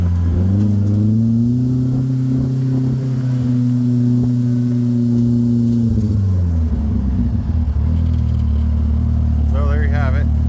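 A turbocharged car engine running a LaRue standalone ECU idles and holds a steady, loud rev for several seconds, then drops back to a lumpy idle with a brief higher whine near the end, with people talking nearby.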